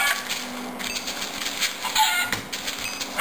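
Short Minecraft chicken clucks, a few quick bird calls over a steady hiss of game background sound, with no talking.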